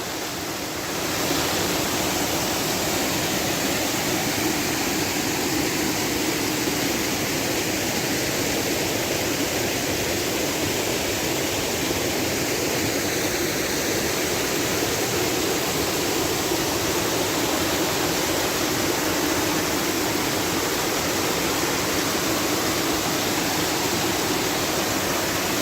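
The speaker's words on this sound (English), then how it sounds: "this is a waterfall" Lineham Falls roars on a forest trail: a constant, dense wash of rushing water, loud and close, unbroken for the whole stretch.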